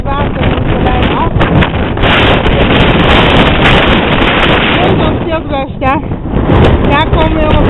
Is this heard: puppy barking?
no